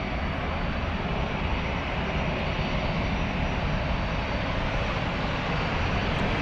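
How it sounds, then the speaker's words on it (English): A Condor Airbus A320 in old livery rolls for takeoff at Frankfurt, its jet engines a steady, broad roar that holds at an even level throughout, with no talk. "That is Condor Flight 4215 rolling"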